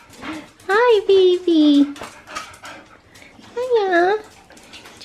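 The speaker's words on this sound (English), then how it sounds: "we're off to go see the little baby puppy" A small dog barks and whimpers in high, rising yelps and whines, close and loud, while a woman greets it in a cheerful voice.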